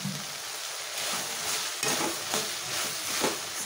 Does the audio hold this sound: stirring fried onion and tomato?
yes